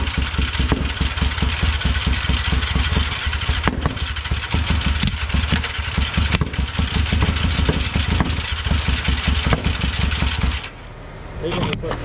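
A 600cc motorcycle engine from a donor bike runs after starting, a loud, close, fast rhythmic chugging that holds steady before dropping off abruptly near the end; people's voices mix in with the engine noise.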